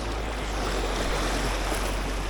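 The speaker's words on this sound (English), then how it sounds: "these big freak waves just come out of nowhere" Ocean waves break steadily on a reef off Jamaica, a loud, continuous wash of surf and water noise with no break in it.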